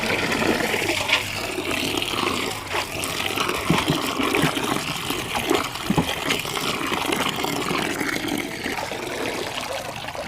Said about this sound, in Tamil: இப்போ தண்ணியில் போட்டு அலசிக்கணும்.